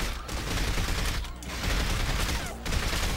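Submachine gun fire in the 007 From Russia With Love video game, dense continuous automatic bursts with brief gaps, loud and close, no talking.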